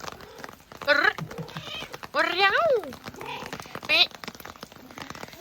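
A cat meows several times, close by, in drawn-out rising and falling cries with short pauses between them. Faint background noise continues throughout.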